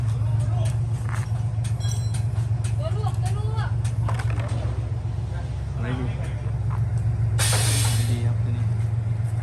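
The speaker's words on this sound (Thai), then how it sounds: "ตอนนี้ลองเบรก" Air brakes on a truck fitted with a dump bed are tested: a sharp, loud burst of pressurized air hisses out late in the clip over a steady low engine idle, while people talk nearby.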